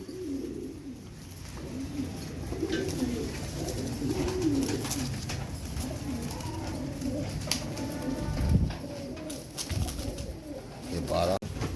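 Molting pigeons in a loft coo in a steady, soft, low rumble from close by, overlapping continuously, while someone talks over them.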